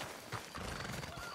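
Hooves clip-clop steadily over a soft background bed, with a brief horse whinny near the start, in the video game Red Dead Redemption 2.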